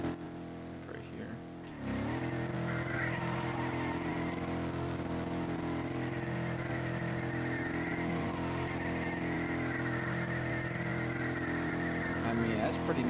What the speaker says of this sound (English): Let's try and see if we can drift this car easily.